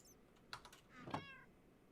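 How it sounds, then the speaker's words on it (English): A cat meows in the video game Minecraft, one faint, short meow under a few soft keyboard clicks. "No, that's a meow."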